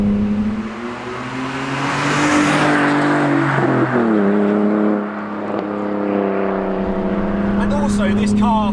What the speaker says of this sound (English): I completely forgot about the noise when you take the roof off.